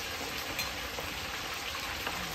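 Chow mein frying in a pan for a beef chow mein and fried chicken meal, a steady, faint sizzle running without a break.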